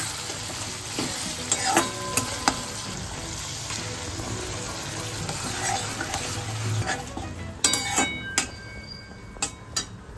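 Peas being stirred in a hot pan of oil for aloo dum, with a steady close sizzle and scattered scraping clicks of the spatula, occasional louder clinks near the end.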